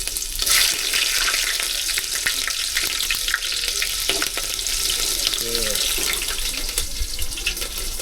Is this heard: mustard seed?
yes